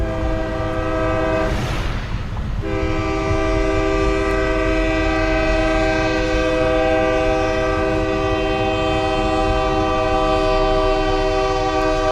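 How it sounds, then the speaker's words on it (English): A train sounds its horn with a loud, sustained chord that lasts the whole stretch, heard close by from a car at a crossing amid tornado-damaged streets, with rumbling rail noise underneath. "And we got a train coming through."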